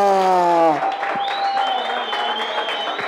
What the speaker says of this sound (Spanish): quiero que le den un fuerte aplauso para